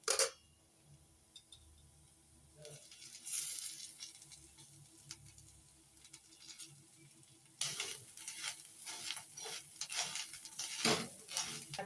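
Fresh grated coconut roasting in a pan with onion and spices for a spicy mutton dish: soft sizzling and scraping stirs, quiet and close, with occasional utensil clinks against the pan.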